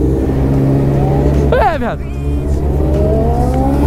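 A supercharged turbo motorcycle engine idles loudly with a steady drone, then revs in a quick rising and falling sweep and keeps droning, while someone speaks briefly over it.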